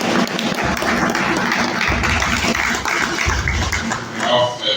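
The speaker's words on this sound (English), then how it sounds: "please round of applause, please" Audience at a GPFI Group 25th anniversary celebration applauding a colleague from Cote d'Ivoire: continuous, full-room clapping with a low rumble of voices underneath, easing slightly toward the end.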